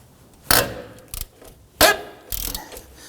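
A hand ratchet with a 19mm socket works loose the rusted strut-to-knuckle bolts on a 2005-2009 Subaru Legacy front suspension, giving four short, sharp clicking bursts spaced unevenly, close and fairly loud.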